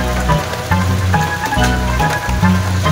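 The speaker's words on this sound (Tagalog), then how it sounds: "pero inaabot na tayo ng ulan" Heavy rain pours in a steady, dense hiss near Tarlac City, Philippines, with music playing prominently over it throughout.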